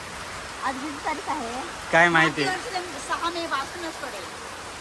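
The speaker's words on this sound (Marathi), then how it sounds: "आज एकदम जोरदार पाऊस आला" Heavy first monsoon rain in a rural Maharashtra village, a constant wash of downpour beneath someone talking close to the microphone.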